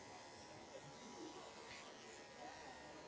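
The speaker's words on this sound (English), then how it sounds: "So my clipper work is pretty much done." Electric pet clippers trim the head of a Giant Schnauzer, giving a faint, continuous buzzing hum that runs steadily for a few seconds at low volume.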